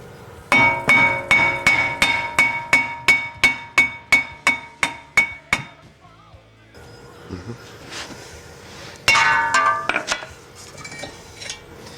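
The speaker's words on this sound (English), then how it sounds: "We'll find our handy brake disc removal hammer." A hammer strikes a frozen-on front brake rotor of a 2013 Dodge Dart about fifteen times in a steady rhythm, each blow ringing sharply, then a pause before a second, shorter burst of hits.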